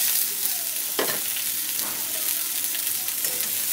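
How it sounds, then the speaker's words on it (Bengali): Boiled cauliflower stalks and potatoes fry in oil with a soft, steady sizzle, broken by a few sharp scraping stirs of the spatula against the pan. No one speaks. "কপির ডাঁটাটা দিয়েও আবারও এটাকে 2 মিনিট মতো একটু তেলের মধ্যে ভেজে নিচ্ছি।"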